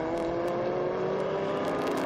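Historic race cars roar flat out in close formation around the Estoril circuit, a loud, sustained engine whine with rising pitch, no voices over it.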